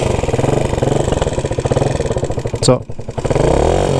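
A scooter engine running again after a CDI repair, close and loud, with a rapid pulsing putter and a brief rev near the end, while a voice speaks briefly over it.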